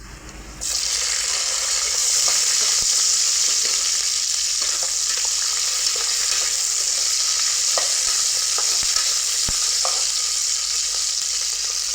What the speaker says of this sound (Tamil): பச்சை மிளகாய் பொரிஞ்சுங்க.